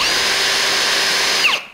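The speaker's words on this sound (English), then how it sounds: "So I will just drill straight through." A power drill bores straight through a metal bolt with a steady, loud high-pitched whine that holds evenly, then winds down abruptly as the bit breaks through and the motor stops.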